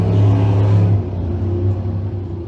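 Panther Framework 602 crate sprint cars rumble loudly at a speedway before a heat race, a steady low engine drone that eases slightly after the first second, close and continuous with no talk.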